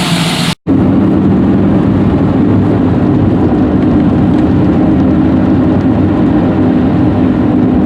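LS V8-swapped Porsche 944 with a loud muffler, engine droning steadily and close while driving, a brief cut near the start, no talking.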